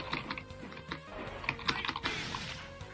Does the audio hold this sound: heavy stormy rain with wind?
no